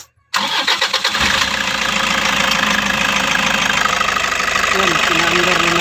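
A Toyota Commuter van engine cranks and catches right away, settling into a loud, close, rumbling idle. Someone speaks briefly over the running engine.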